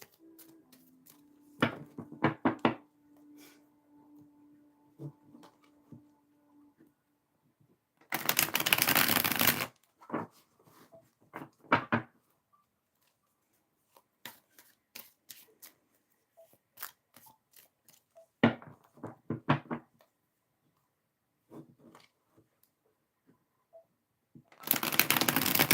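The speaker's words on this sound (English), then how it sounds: "Getting better with shuffling these cards." A thick tarot deck being shuffled by hand, bursts of riffling and flicking cards separated by quiet gaps, with a couple of loud full riffles; faint humming in the background early on.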